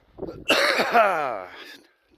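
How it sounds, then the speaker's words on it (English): A person coughs harshly up close, a rough, phlegmy hack with a brief throat-clearing quality, then falls quiet. "I smoke, so I hack and cough like an idiot a lot."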